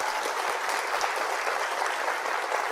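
An audience at a chess championship event claps in steady, dense applause, fairly even in loudness throughout, with no voices over it.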